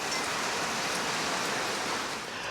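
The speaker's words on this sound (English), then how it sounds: "But it's really nice that I could sit out here and enjoy the rain now." Rain patters steadily on the hardtop roof of a 12x16 patio gazebo, a dense, even hiss that stays loud and unbroken throughout with no voices.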